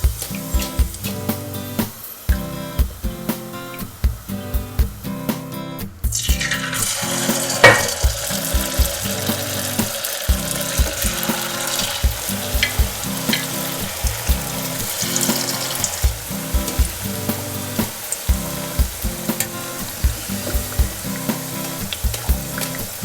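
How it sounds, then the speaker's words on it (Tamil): Mundhiri kothu sweet balls deep-frying in bubbling oil give a steady crackling sizzle, with a louder burst of frying noise after a few seconds, carrying on continuously with no talk. "கொஞ்ச நேரம் எண்ணெயில் போட்டோன்னே சிறிய நிறம் மாற்றம் அல்லது இந்த கொப்பளிக்கிற எண்ணெய் கொஞ்சம் அடங்கிச்சுன்னா அது வெந்துடுச்சுன்னு அர்த்தம்"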